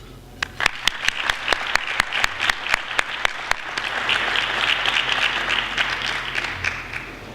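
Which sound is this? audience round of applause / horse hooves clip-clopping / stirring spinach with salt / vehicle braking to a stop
audience round of applause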